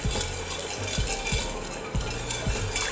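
A spoon stirs sugar syrup for rasmalai in a metal pan, giving rhythmic clinks and scrapes about twice a second over a soft background hiss.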